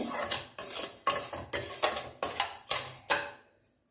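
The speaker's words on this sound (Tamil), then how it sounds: "இப்போ ஃப்ளேம் ஹையில் வச்சுட்டு நல்லா வறுபடட்டும்" A pan of dry-roasting ingredients for thiruvathirai kali is stirred over a high flame, about eight rhythmic scraping strokes, close and even, before the sound stops.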